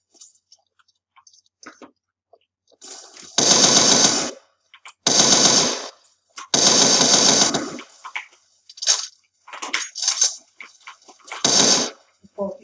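Loud bursts of gunfire from a competitive first-person shooter game, with about a dozen sharp shots and short volleys arriving in irregular clusters, close and dominant over a quiet background.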